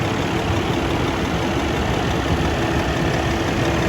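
Cummins ISX diesel engine idling in a 2012 Kenworth T700 sleeper truck, a steady loud rumble with the hood open, even and continuous throughout.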